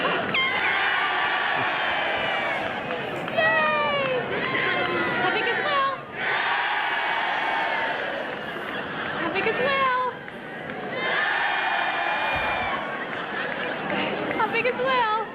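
A large parade crowd roars and cheers in loud waves at a convention opening ceremony, swelling and dipping with shrieks and whoops, a brief lull near six seconds before the cheering surges again.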